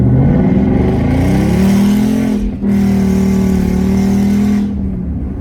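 Ford Mustang S550 with a straight H-pipe exhaust mod revving hard, a loud, raspy engine roar climbing in pitch, a brief dip, then another sustained high rev before settling, very close with no talk.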